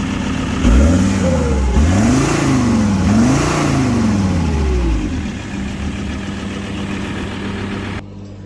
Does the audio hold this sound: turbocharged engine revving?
yes